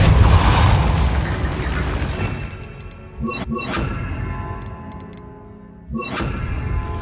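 Spells cast in the Hogwarts Legacy video game: layered magical bursts and booming impacts with mechanical clicks, a loud blast at the start and two sharper hits later, each trailing off.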